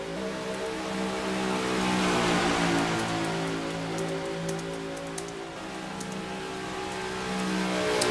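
A race car engine in a racing video game drones steadily, a continuous buzzing multi-toned hum held at a fairly even level with a slight dip and rise, no speech over it.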